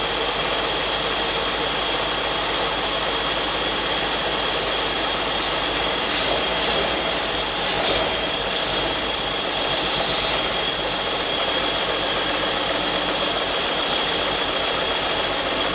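A Holden Commodore engine, revived after sitting abandoned in a paddock, idles quietly and misfires, giving a steady low rumble with an uneven, stumbling beat under a broad wash of noise.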